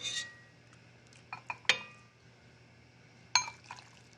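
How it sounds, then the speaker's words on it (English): A metal ladle clinks against a bowl while soup is served, giving a few sharp, bright taps and chinks with soft liquid sloshing between them in a quiet kitchen. "Ladle in your soup."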